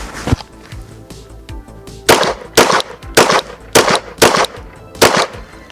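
Pistol shots in a practical shooting drill, a handful of loud sharp reports fired one at a time at a steady quick pace, close and ringing, with no talking.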